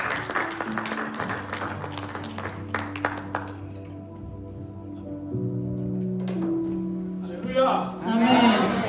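A church congregation claps for their pastor as he arrives, with bursts of clapping over sustained keyboard chords, then a quieter musical stretch and a crowd swell with cheering near the end.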